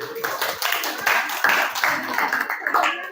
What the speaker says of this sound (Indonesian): Oke, kasih aplaus dulu.